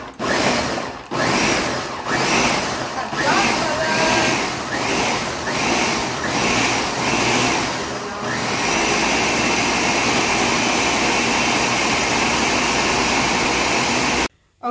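A countertop blender pulses hot, just-cooked salsa in a run of short, loud bursts, then settles into one continuous whir before cutting off abruptly at the end.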